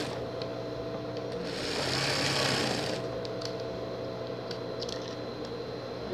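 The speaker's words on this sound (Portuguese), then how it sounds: "Você pega a sua maquininha e vem costurando assim." A small home sewing machine stitching fabric for a pet jumpsuit, running in a steady continuous whir for about six seconds, swelling briefly louder in the middle, close and alone with no talking.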